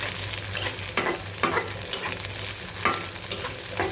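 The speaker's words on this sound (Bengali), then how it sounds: "আমি তার সাথে এখানে আরও পাঁচফোড়ন দিয়ে দিচ্ছি ভেজে নেব আমি" Panch phoron five-spice seeds fry in hot oil with a loud, dense sizzle, while a utensil stirs with regular scraping strokes about every half second, no voices.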